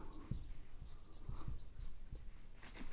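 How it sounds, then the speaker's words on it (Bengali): A hand draws lines on paper during a school math lesson, giving quiet, short scratchy pen strokes in an uneven rhythm, several in a row, close and soft. "আমি কিন্তু এই হাতেই দাগ দিচ্ছি"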